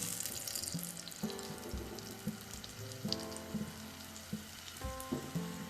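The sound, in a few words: egg frying in oil on low-medium flame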